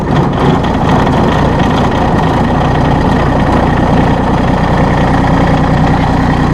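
Steady idle of a Massey Ferguson GC1723E sub-compact tractor engine, a continuous low rumble with a faint vibrating hum, close and fairly loud, with no talk over it.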